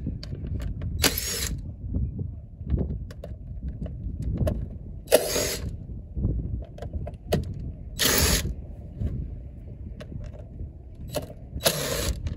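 On a 2004 Honda Civic air filter housing, a screw is worked loose with a ratcheting driver. Scratchy turning noises come close and quiet, with a few brief bursts of high whirring as the tool spins.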